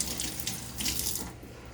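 Tap water runs steadily into a sink as tools are rinsed off, a close, continuous splashing gush with no talking.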